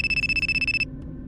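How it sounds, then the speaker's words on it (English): A mobile phone rings with a bright electronic tone pulsing in rapid, even bursts for under a second, then stops abruptly, leaving quiet room noise. "Suddenly my phone rang."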